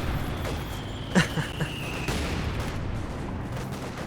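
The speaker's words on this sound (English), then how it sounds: "Here's the AVRE shots through the building" The AVRE demolition gun in a World War II video game fires through a building: one sharp heavy blast followed by a couple of smaller cracks and debris, over steady battlefield noise.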